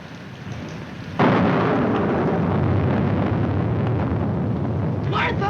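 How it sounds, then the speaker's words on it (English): A heavy rain-and-thunder storm breaks in abruptly after a quiet start, a loud sustained roar of downpour and rumbling thunder that fills the rest of the stretch. "I'm afraid of the thunder and lightning."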